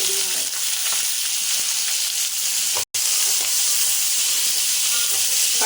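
Curry leaves, green chilies and onion frying in hot oil for a home-style sambar and poriyal give a steady, loud sizzle and hiss with a brief break partway through.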